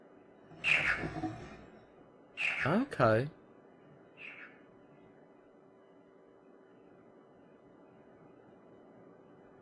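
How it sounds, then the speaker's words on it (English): A short electronic chirp from the Riven video game, a brief bright rising call heard once near the middle, with a voice speaking over the game audio before it and a faint quiet background hum throughout. "And it makes a chirping sound."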